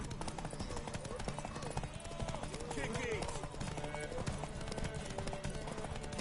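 Horse hooves clip-clop at a steady gallop in the Witcher 3 video game, loud and continuous under game music and shouted voices.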